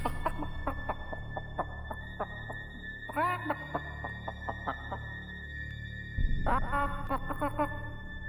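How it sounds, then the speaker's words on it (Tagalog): A pet chicken kept at a home on an island makes a series of clucks and harsh squawks, with louder bursts midway and near the end over a steady low background hum. "madalas siyang marinig na nag-iingay yung alaga nilang manok"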